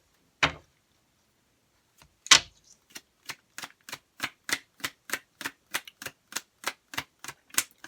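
Tarot deck being shuffled and split: two separate slaps, then a quick, even run of crisp card snaps, about a dozen in a row, close and clear with no talking.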